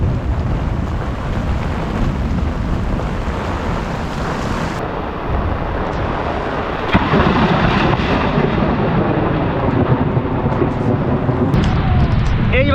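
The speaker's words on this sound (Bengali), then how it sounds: "প্রচন্ড মেঘ গর্জন করতেছে, ভয় লাগতেছে।" Heavy thunder rumbles through a monsoon rainstorm over a fishing spot, a dense roar of rain and wind filling the whole stretch with deep, rolling low booms that swell louder midway.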